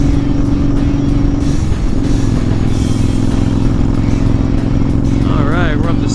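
A Honda Fury motorcycle fitted with a Cobra Speedster exhaust and Powerflo air cleaner pulls steadily in 4th gear around 45 mph, a loud, close, even engine drone with wind rush, and a rider talking over it.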